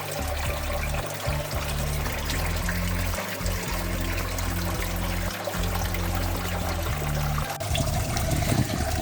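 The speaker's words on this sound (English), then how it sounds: "So the water comes in right there. It's from the sump tank and it has already been filtered." Filtered water from a sump tank flows into a backyard aquaponics system, a steady close trickling pour over a continuous low pump hum, with no speech.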